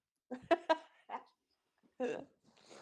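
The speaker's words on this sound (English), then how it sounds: "Dog starts barking." A dog gives a few short, sharp barks close by, two quick ones in a row and then scattered single yelps and whimpering noises with pauses between, in a quiet room.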